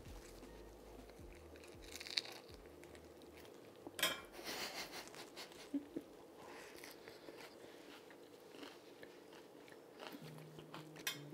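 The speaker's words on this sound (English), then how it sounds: "let's give it a bite" A bite into a curried tofu butter lettuce cup gives a faint, close crunch, followed by quiet chewing and light clinks of dishes in a calm room.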